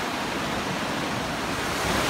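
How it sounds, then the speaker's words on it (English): A monsoon-flooded desert river in Tucson running bank to bank, a dense, steady roar of rushing water that fills the whole short stretch with no voices. "The Rito is flowing bank to bank"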